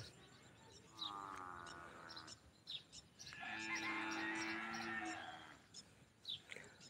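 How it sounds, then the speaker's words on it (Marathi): Cows on farmland near Baramati low in two long, fairly faint calls on a quiet morning, with birds chirping lightly around them. "आज बघा गायांचे हंबरड्याचे आवाज केवढे येतात"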